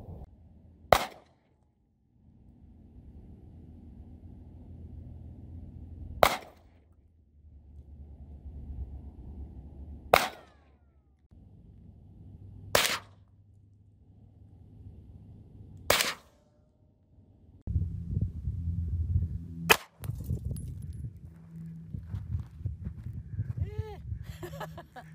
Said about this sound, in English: so we're going to do some target practice